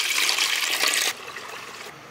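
Plain water poured in a kitchen while making egg momos, a steady bright splashing stream for about a second that then drops to a softer trickle.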